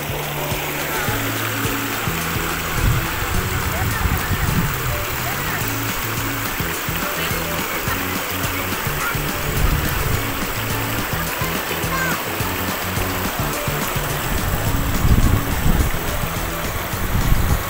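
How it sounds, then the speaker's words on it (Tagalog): A mountain river rushes steadily in the Salabusob River area, with continuous loud flowing and splashing water close by and a person talking over it. "Yung tubig po na yan is galing po sa bundok."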